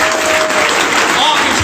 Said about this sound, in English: A huge round of applause for all the elected officials.